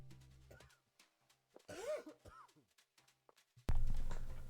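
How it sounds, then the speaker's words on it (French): A person coughs in a quiet room, giving a few close, rough coughs and throat-clearing bursts, followed by a sudden louder noise at the end. "c'est vraiment pénible cette toux"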